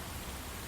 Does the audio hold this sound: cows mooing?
no